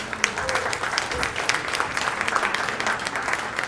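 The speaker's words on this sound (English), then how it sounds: "A round of applause for Kevin." A club audience applauds a drummer being introduced at a live jazz tribute, dense steady clapping filling the room for several seconds, with no talk over it.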